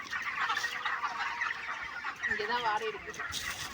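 Hens on a coconut grove poultry farm cluck and chatter continuously, with several birds calling at once from close range and faint voices in the background.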